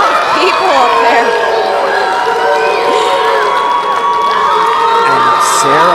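A loud arena crowd cheers, whoops and shouts continuously at the women's college wrestling national championship quarterfinals, with many overlapping voices close by.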